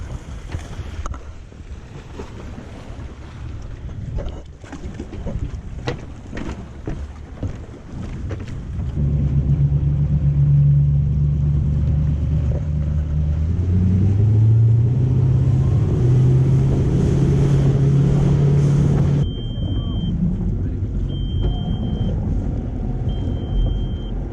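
An electric jetboard motor hums steadily at close range on the sea in Greece while wind buffets the microphone, with gusts and rushing air across the ride.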